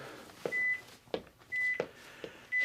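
A workout timer for a home HIIT routine gives a series of short, thin electronic beeps at a regular pace, each with a soft click. They sound fairly faint in a quiet room.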